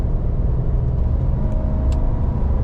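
A 2008 Hummer H2 with the 6.2 engine cruising on the highway, a steady low rumble of engine and road noise that stays loud and even throughout, with no clear shift break standing out.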